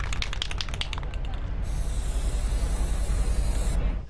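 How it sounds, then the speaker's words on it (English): An aerosol spray can hisses in long, loud bursts as someone paints a message on plywood boarding over a damaged storefront, with steady hissing and a low street rumble underneath. "We met Sheila Kunkel spray painting a message of hope on the outside of her damaged store."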